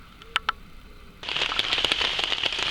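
Rain falls during an overnight camp, starting as a hush with a couple of soft taps, then rising into a steady close patter of drops on a surface.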